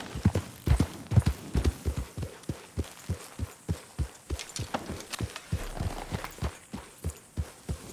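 Horse hooves in Red Dead Redemption 2 clop in a steady walking rhythm, evenly spaced thuds about two per second, close and clear with no other sounds.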